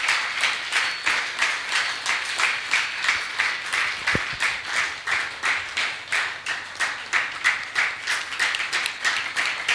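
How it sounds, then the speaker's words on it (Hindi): A large audience at a spiritual meditation festival gives a loud, steady round of applause, the claps dense and rhythmic with regular pulsing swells throughout, no talking over it. "मैं मंच पर आदरणीय श्यामा दीदी जी को आमंत्रित करती हूँ, जोरदार तालियों के साथ"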